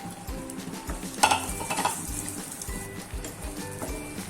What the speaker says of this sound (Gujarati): હવે આપણે ધીમા ગેસ ઉપર આપણે બે થી ત્રણ મિનિટ માટે શેકી લેશું